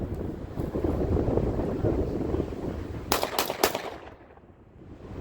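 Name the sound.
shotgun shots, Panzer EG200 with extended magazine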